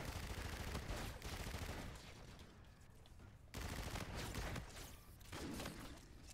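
Dense gunfire from a video game weapon, rapid bursts of shots in a steady stream that ease off midway and then pick back up, loud and close.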